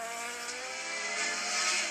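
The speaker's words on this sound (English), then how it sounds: "Lotus 49 back on screen, being tweaked through the chicane." A Lotus 49 race car with its Cosworth Ford engine howls through a chicane at Goodwood Revival, a steady high-pitched engine scream that builds slightly in loudness over the short burst, heard alone without voices.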